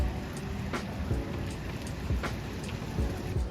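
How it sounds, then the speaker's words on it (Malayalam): Heavy rain falls in Marlow, England, a dense, steady hiss with scattered sharper drops and splashes, fairly close and continuous with no talking. "മഴയായി ഗൈസ്."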